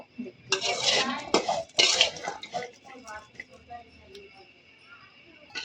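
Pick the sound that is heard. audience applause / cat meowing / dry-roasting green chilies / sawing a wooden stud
dry-roasting green chilies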